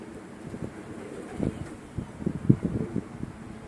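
Pigeons around a loft on a March afternoon, with soft low cooing and scattered wingbeat flutters rising toward the middle, over light wind and a steady background hum.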